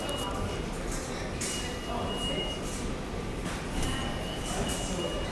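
A New York City subway train rumbles steadily with faint metallic squeals and rattling. Muffled voices murmur in the background throughout.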